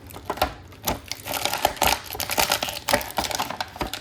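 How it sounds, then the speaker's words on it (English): Mail packaging being opened, with a steady run of crisp crinkles and rustling bursts close to the microphone and no talking over it. "here's some crinkling noises coming up"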